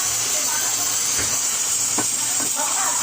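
Tofu and brown mushrooms boil in a pot, giving a steady close steamy hiss with a few faint bubbling pops and no talk.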